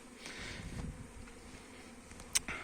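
A low, continuous hum of many honeybees buzzing in mass flight, steady and fairly faint, with a brief sharp click near the end.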